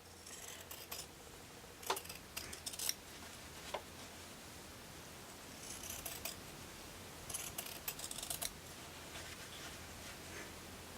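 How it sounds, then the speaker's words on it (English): A rotary cutter slices through quilting cotton along a ruler, trimming a snowball block seam allowance: several short, crisp rolling cuts in separate bursts, close and fairly quiet, with pauses of near silence between. "you can take a rotary cutter and a ruler and cut 1/4 inch away"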